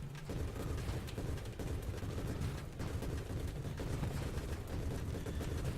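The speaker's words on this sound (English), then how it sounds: "It's just explosions everywhere." Dense, continuous barrage of explosions and gunfire from the space shooter game Nova Drift, a rocket-heavy build in co-op play, sustained at steady loudness throughout with no pauses.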